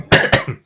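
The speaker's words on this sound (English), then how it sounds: "sorry about the coughing" Two sharp, close coughs in quick succession, loud and abrupt, followed by a softer trailing breath, from a person during a poker coaching session.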